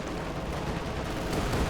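Dense cannon and gunfire in Company of Heroes 2 forms a continuous, rumbling barrage of overlapping shots with no clear gaps, steady and moderately loud.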